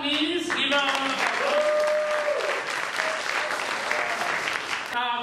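Applause fills a community hall at an African Cinema Day event in New York, a dense, steady patter of many hands, with voices and cheers calling out over it throughout.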